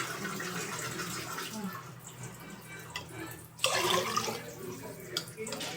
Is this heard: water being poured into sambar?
yes